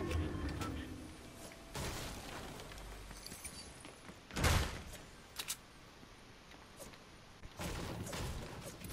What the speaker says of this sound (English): Stark energy rifle.